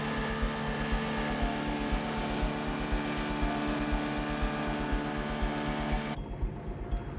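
A motorboat engine, the main boat transport to Bagang, drones steadily up close, its rapid throbbing pulse filling the recording, then dropping to a rougher, lower idle near the end.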